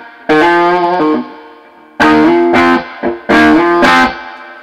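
Heavily distorted electric guitar chords through a modified Fender Blues Deluxe amplifier's drive channel ring out loud and close, a few strummed hits with sustained crunchy tone and short gaps between.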